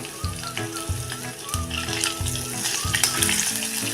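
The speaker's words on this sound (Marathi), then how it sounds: "ते थोडं असं परतून झालं की त्यामध्ये टाकायची ही उडदाची डाळ" Urad dal frying in a pan with green chillies and curry leaves, a steady close sizzle and crackle with repeated spoon stirs and scrapes throughout, no voices.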